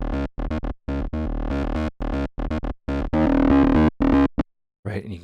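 Electric guitar through a Cytomic The Scream distortion pedal starved of voltage, giving a brittle, sputtering fuzz. Loud choppy bursts of chords and notes cut off abruptly, then a held note, then a short gap before more playing.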